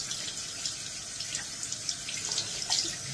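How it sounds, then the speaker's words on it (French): Tap water running steadily into a sink while items are rinsed, a constant close splashing hiss with small irregular splatters, no talking. "Donc, je rince bien."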